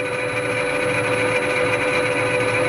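A metal lathe running in back gear gives a loud, steady mechanical whine and hum that holds constant throughout, close by and alone without speech.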